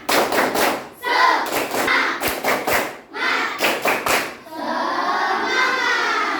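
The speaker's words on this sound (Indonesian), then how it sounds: "ayo kita tepuk semangat biar semangat dulu ya. Tepuk semangat." A class of children claps out the tepuk semangat chant, bursts of fast rhythmic claps in groups separated by brief pauses, with young voices chanting along loudly between and over the claps.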